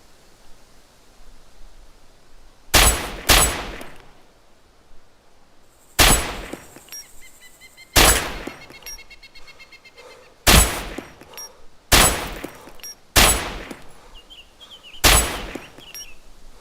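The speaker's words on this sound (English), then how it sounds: "suddenly gunshots just erupted all around us" Gunfire erupts in the ARMA 2 DayZ Overpoch video game, with about nine sharp, loud single shots spaced a second or two apart, some close together, over a faint background hiss.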